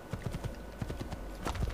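Horse hooves clip-clop in the video game Assassin's Creed 2, a close run of quick, regular hoofbeats over a low background bed.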